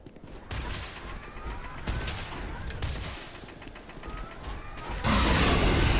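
Chaotic gunfire exchange in the Starfield video game, with overlapping shots and mechanical clatter throughout, swelling into a louder, harsher barrage in the final second.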